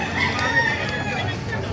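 Caged chickens and roosters at a busy market, with a rooster crowing and hens clucking against a steady murmur of crowd babble and nearby talk.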